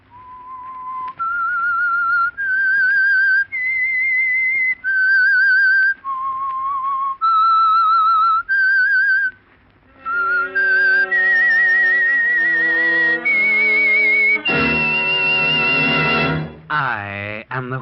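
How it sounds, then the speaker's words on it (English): A clear, sustained radio theme melody is whistled, with long held notes rising and falling, ending in a bright, louder flourish. "That whistle is your signal for the Signal Oil Program"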